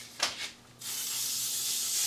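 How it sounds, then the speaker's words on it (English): A short hiss of an aerosol cooking spray onto dinner rolls, with a couple of quick puffs followed by a longer steady spray, close by. "then we're going to spray it just a little bit with some cooking spray"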